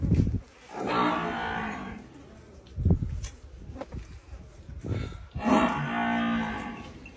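Long, low bellowing moos from a buffalo, two drawn-out calls with a few shorter grunts between, close and loud with no talking.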